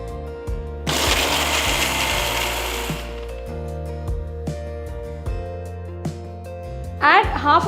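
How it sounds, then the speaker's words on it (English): A kitchen mixer grinder runs a short loud burst grinding dry red chillies in its jar, a harsh whirring roar that cuts off abruptly, followed by quieter clinks and a second brief rattle, with music playing underneath. "To the mixer jar, add the red chillies first and grind them"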